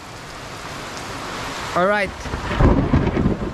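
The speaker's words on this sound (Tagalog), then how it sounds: "biglang lumakas ang ulan tapos kumukulog, kumikidlat" Heavy rain pours with rumbling thunder during a sudden downpour, a steady wash of noise with a deep roll building near the end and a brief spoken word partway through.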